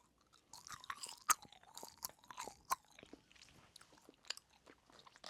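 Pineapple being chewed close to the mouth, wet crunchy bites and squelching mastication in an uneven rhythm, faint and intimate with no talking.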